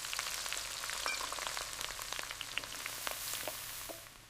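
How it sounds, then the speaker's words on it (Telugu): Thinly sliced onions fry in hot cooking oil in a kadai for a potato egg curry, giving a quiet, steady crackling sizzle with faint pops, heard alone with no voices. "కడాయిలోని వేడి నూనెలో సన్నగా తరిగిన ఉల్లిపాయలను వేయండి."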